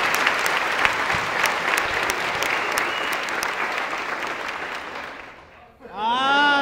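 An audience at a Christmas comedy sketch show claps for the production crew, a sustained loud wash of applause that fades out before a voice speaks at the end.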